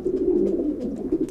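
A racing pigeon held in the hand gives a low, steady cooing that stays close and fairly loud, rising and falling in soft pulses throughout.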